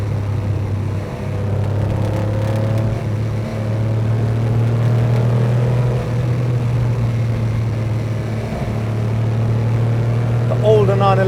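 Engine of a 1979 Porsche 911 SC pulling hard in third gear, a steady loud droning rumble with rising tone through the drive, heard from inside the car, with a brief higher whine near the end.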